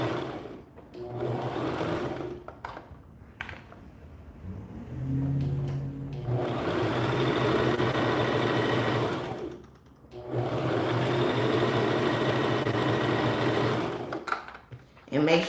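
A sewing machine runs a zigzag stretch stitch on stretchy fabric for a summer top, with long loud steady runs that stop and start between short pauses.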